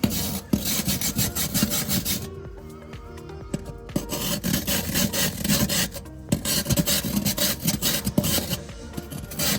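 Scrubbing baked-on grease off an air fryer oven, a loud close rasping scrub in rapid back-and-forth strokes with brief pauses between bursts.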